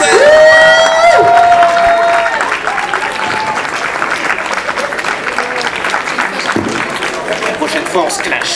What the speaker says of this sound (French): Applaudissez encore, et s'il vous plaît. Bravo!